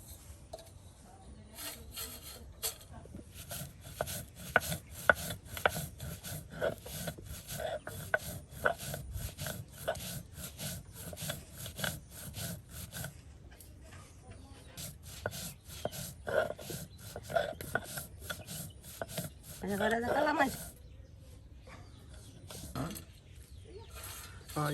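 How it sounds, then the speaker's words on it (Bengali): Black cumin seeds ground by hand on a grinding stone for a shrimp and black cumin mash, heard as steady, close rhythmic rasping and scraping strokes, with a brief voice-like sweep near the end. "কালো জিরা বেটে নেওয়া হবে এখন।"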